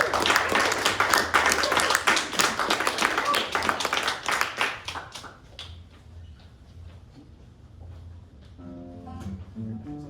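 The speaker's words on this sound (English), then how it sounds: "Give them a little round of applause, everybody." A small crowd at an outdoor evening poetry and music event claps in a dense burst that gradually thins and fades out, followed by faint background sounds and the start of music.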